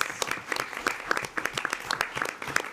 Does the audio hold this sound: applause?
yes